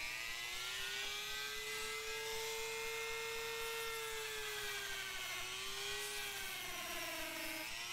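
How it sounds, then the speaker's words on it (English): Dremel rotary tool fitted with a drum sander shaping a homemade custom knife, a steady high-pitched whine whose pitch sags slightly as the sander bears into the workpiece, close and continuous with no talk. "A Dremel tool with the drum sander helps you get into the nooks and crannies"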